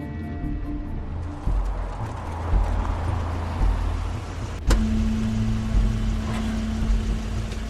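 Crane's car arriving in The Wolf Among Us game, a low engine rumble rolling in with a steady hum rising partway through, fairly close and continuous, with no talk over it.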